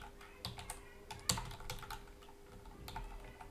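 Rapid clicking of keys on a computer keyboard while entering a domain name into an FTP client, a quiet, uneven run of close taps with one sharper, louder keystroke partway through.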